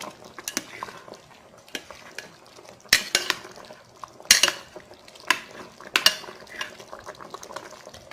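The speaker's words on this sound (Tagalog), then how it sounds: "Nahalo ko kasi nadikit siya, baka masunog sa ilalim." Chicken afritada stirred in a cooking pot, a spoon scraping the bottom and clanking against the metal sides in irregular sharp hits, with a faint simmering bubble underneath and no voices.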